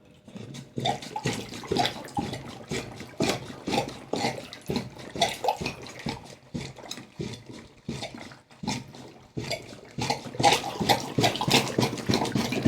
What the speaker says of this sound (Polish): Gorzej z nalaniem wody.